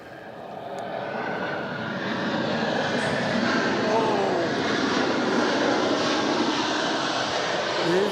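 Jet airliner landing at Melbourne Airport with thrust reversers engaged, a loud sustained roar building over the first seconds and then holding steady, with people talking beneath it.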